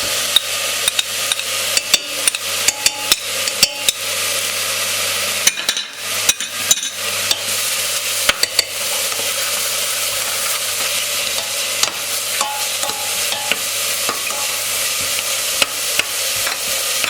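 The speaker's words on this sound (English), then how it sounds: "caramelize the onions nicely and the garlic. Okay, we put as well the tomato paste on it" Onions, garlic and tomato paste fry in a pan for a chickpea curry, a steady sizzle broken by frequent scraping and tapping clicks of a spoon stirring against the pan.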